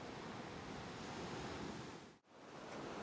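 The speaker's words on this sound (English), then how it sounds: "we have an emitter which follows the player to make sure there is always water ambience around them." Shoreline water ambience from the video game Nightingale: a steady, soft wash of waves and surf with a hiss of wind, dipping briefly to near silence before resuming.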